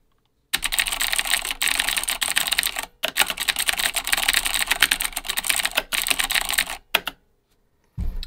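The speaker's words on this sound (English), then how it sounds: "Then we have a Razer Black Widow Ultimate, mechanical keyboard, very loud switches." Rapid, loud clacking from a Razer BlackWidow Ultimate mechanical keyboard with loud switches, typed in dense bursts with short pauses between them and a brief silence near the end.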